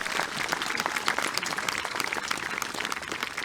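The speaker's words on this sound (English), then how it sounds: "Let's give our associate's degree earners a round of applause." Sustained audience applause for associate's degree earners fills a high school commencement ceremony, steady and even, with many hands clapping together and no voices over it.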